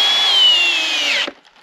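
A power drill drives a screw through boards joined with construction adhesive: a single loud, close whine that sags slightly in pitch for just over a second, then cuts off abruptly.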